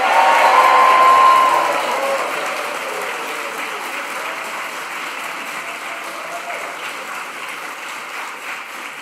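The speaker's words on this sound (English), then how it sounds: "let's give a big cheer for the graduating class of" A graduation audience bursts into loud cheering and applause, peaking in the opening seconds and then settling into a steady, slowly fading wash of clapping, with a faint whistle near the start.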